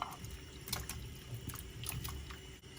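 Water pours into a huge soup pot already holding sausage and pork for a copycat Dublin coddle, giving a steady splashing, trickling wash throughout.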